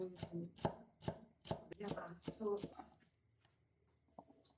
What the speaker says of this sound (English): I'll cut the root and the shoots and chop finely